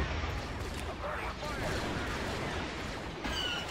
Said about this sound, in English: Rocket fire.